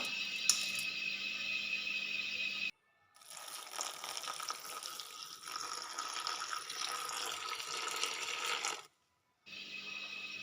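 Water gushes steadily into a pan of sardine curry made with gooseberries, stopping briefly twice before the pouring resumes, fairly quiet and close.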